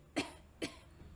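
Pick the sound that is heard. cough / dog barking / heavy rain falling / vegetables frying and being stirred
cough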